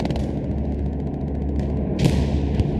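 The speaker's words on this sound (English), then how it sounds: "Oh, nasty bombing run coming out." Bombing run explosions from the Hell Let Loose WWII shooter during a German D-Day counterattack: heavy rumbling blasts and thuds roll continuously, with a sharper crack near the end amid dense battlefield noise.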